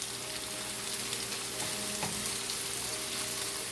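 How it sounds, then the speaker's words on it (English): Chicken browning in a pot for chicken and dumplings soup, a steady close sizzle and frying crackle with a faint stir, continuous and fairly loud with no talking. "we'll just let it brown a little more."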